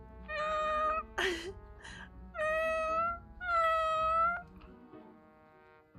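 Several distinct cat meows from the video game Ravenous Devils come one after another, loud and close, with short gaps and a faint low hum between them.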